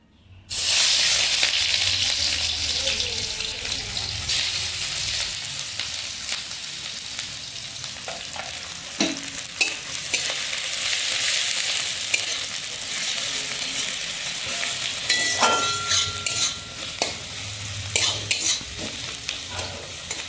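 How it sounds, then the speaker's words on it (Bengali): Onions dropped into hot oil in a wok, a sudden loud sizzle that settles into a steady crackling fry with occasional spatula scrapes and stirs, close and continuous, no speech. "এবার আমি কড়াই পেঁয়াজ দিয়ে দিচ্ছি।"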